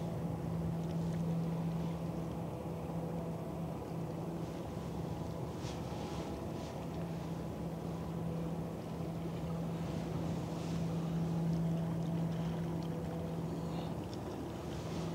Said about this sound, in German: der Schlepper fährt rückwärts